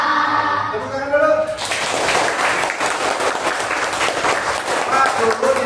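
A class of children applauds in a classroom, dense continuous clapping that starts after a brief bit of voices and carries on loudly to the end, with some voices mixed in.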